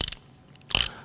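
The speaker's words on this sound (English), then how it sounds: "22 millimeter socket and on a 1/2-inch ratchet" A 1/2-inch ratchet fitted with a 22 millimeter socket gives two quick bursts of metallic clicking, close and crisp, separated by a short pause.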